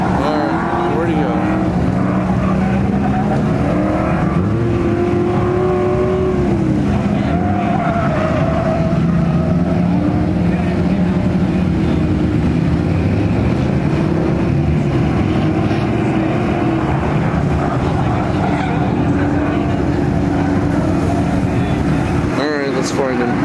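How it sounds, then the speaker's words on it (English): At Autofest Dallas, a car's engine hums and shifts pitch as it drives around, nearly buried in heavy, constant wind buffeting, with people talking over it. "There's a car going around now."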